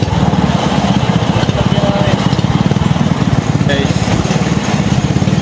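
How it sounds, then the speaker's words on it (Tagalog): Small engine of a motorized rail skate running steadily up close on a track in Bicol, a loud continuous putter with rapid pulsing throughout, and a voice briefly speaking over it. "nakasakay kami sa skate kung tawagin. May makina siya"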